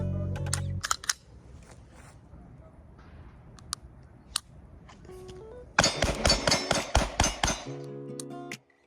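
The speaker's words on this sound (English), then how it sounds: "let's look at the trigger pull on this" A Canik Echelon pistol's trigger is pulled several times up close, sharp isolated metallic clicks at first, then a quick rapid string of crisp snaps and clinks near the end.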